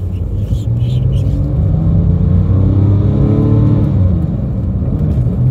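Porsche 997 911 Turbo engine heard from inside while driving on a dual carriageway, a deep loud rumble that swells with throttle blips, with a voice talking over it.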